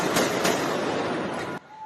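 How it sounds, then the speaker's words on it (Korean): Rapid bursts of gunfire ring out at a Tel Aviv train station in the Jaffa district, loud and crackling in quick succession, then cut off abruptly into quiet. "이스라엘 텔아비브의 한 전철역에서 총성이 연거푸 울립니다."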